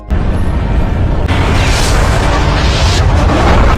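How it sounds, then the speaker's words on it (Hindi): A heavy, sustained roar of a massive explosion destroying the Umbrella headquarters in Resident Evil rumbles loudly, swelling midway into a deeper, fuller blast that keeps thundering on. "कुछ ही सेकंड बाद पूरा अम्ब्रेला हेडक्वार्टर एक भीषण धमाके के साथ राख में बदल जाता है।"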